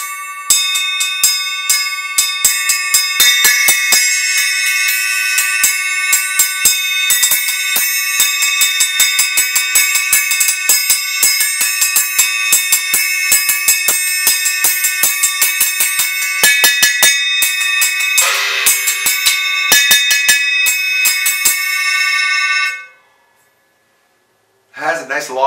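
A Stagg 6-inch bell cymbal struck rapidly and repeatedly, loud bright metallic pings piling into a continuous shimmering ring for over twenty seconds before it is stopped dead, then a few faint taps.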